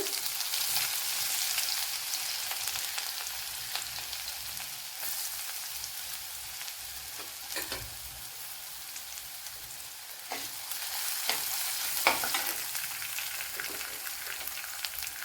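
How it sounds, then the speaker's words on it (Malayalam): Crushed ginger and garlic sizzle in hot oil in a pan, a continuous crackling fry that swells and eases slightly, with occasional stirring scrapes and taps. "ഇവിടെ ചതച്ച ഇഞ്ചിയും വെളുത്തുള്ളിയും കൂടെ ഇട്ട് കൊടുക്കാം"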